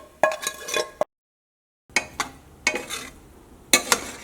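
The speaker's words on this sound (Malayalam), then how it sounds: "അപ്പോൾ ഇനി ഇതിലേക്ക് പൊരിച്ച് വെച്ചേക്കണം മുട്ടയും കൂടിയിട്ട് ചേർക്കാം" Fried egg is stirred into fried rice in a hot pan with several scraping, clinking strokes over a light sizzle. The sound breaks off into a short silence, then the nearby stirring starts again.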